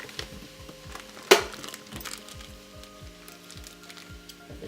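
Buttered bread laid butter side down on a hot toastie maker, with a sudden crackle followed by a steady close sizzle.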